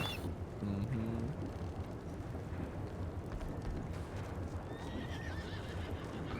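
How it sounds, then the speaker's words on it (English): Horses in a video game frontier town plod with steady clip-clop hooves while one neighs clearly near the start and again later, over a busy ambient bed of street noise. "there certainly are a lot of horses around"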